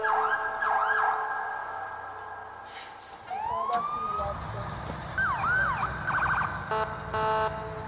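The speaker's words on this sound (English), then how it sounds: "The horn on the international is great." Fire engine siren from a firefighting video game, with wailing and yelping sweeps, then the deep blare of an International engine's horn joining in, loud and continuous with low engine rumble beneath.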